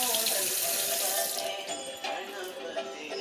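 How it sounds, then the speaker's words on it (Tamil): Running tap water splashes steadily in a sink as a knife and tray used for cutting apples are washed, with a little clatter near the end. "இந்த ட்ரே, இந்த கத்தி எடுத்து கழுவு"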